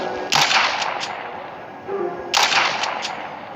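Two bursts of rapid gunfire crack out in the video game The Walking Zombie 2, each a quick cluster of sharp shots, separated by a quieter stretch of background noise.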